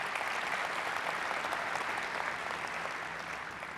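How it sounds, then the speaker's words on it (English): Conference audience applauding sponsors at an airline industry plenary, a sustained, even roll of many hands clapping in a large hall, moderately loud and tapering slightly toward the end. "Round of applause, please."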